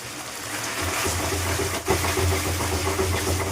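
Water poured into whisked yogurt for a vegetable curry gives a steady, close splashing hiss with a low rumble running underneath, brief and fairly loud.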